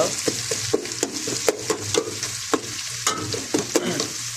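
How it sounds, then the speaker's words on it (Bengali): Onions frying in oil for a chicken curry, with a hiss running throughout and a spoon clattering against the pan in steady repeated strokes. "পেঁয়াজটা একটু কষানোর মতো দিয়ে দিলাম"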